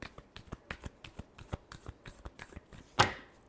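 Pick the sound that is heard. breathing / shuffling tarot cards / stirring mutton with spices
shuffling tarot cards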